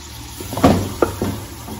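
Water poured into a cooking pot of onions and spices while making bhuni raan, a few close splashing, sizzling bursts against a low steady hum.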